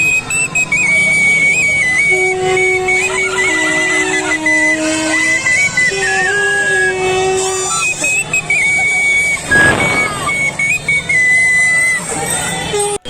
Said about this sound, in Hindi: सीटी बजाते देखा